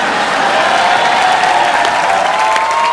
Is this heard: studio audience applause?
yes